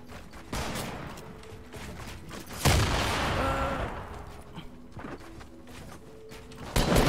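Gunfire in Fortnite, with rapid bursts of shots and sharp impacts cracking out in clusters, one especially loud blast standing out amid the mechanical clatter of a close fight.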